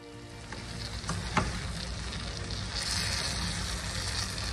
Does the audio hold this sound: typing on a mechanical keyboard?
no